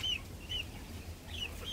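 Free-range hens of the caipira pena de ema breed cluck softly in a backyard with chicks nearby. Short, faint calls come in two pairs over a low, steady background.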